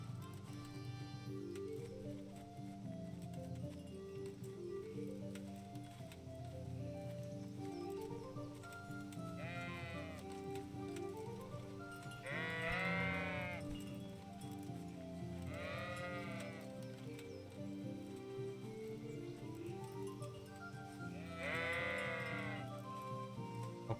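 Sheep bleat repeatedly in the medieval game Kingdom Come: Deliverance, several loud wavering calls rising over a steady layer of ambient music and background sound, with no talking.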